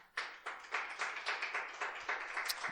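A church congregation applauds together during a Spanish-language sermon, a steady, rhythmic wave of clapping with regular pulses, fairly distant and evenly sustained throughout, with no speech over it.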